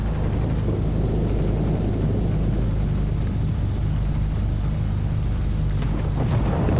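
Propeller engine drone of a Bristol 133, a tier-3 fighter plane in World of Warplanes, a steady loud low roar with rumble that holds throughout, no talk over it.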